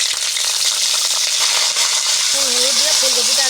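Cauliflower pieces frying in hot oil in a pan, a steady bright sizzle running throughout, with someone speaking over it in the final second.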